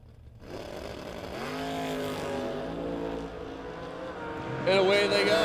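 Drag race launch at the 9th Annual Mutt and Jeff Race, an '88 Ford Thunderbird against a '73 Camaro, with engines building to a loud, rising roar that surges sharply near the end while a crowd and announcer carry on underneath.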